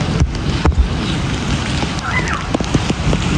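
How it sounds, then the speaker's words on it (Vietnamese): Heavy rain pours down onto a flooded yard, a loud broadband wash with occasional sharp splashes and knocks, a faint brief tone rising through it. "trời mưa lớn luôn các bạn ơi"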